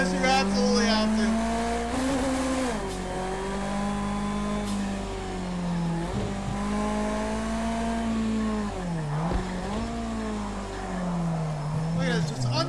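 A racing car in the Project Cars video game whips around after a handbrake pull, its engine droning steadily with pitch swings and dips, loud and continuous throughout.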